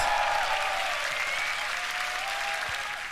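Crowd applause and cheering at the GBB 2023 beatbox tag team final, a dense, steady roar of clapping that fills the whole moment, loud and continuous with a slight fade toward the end.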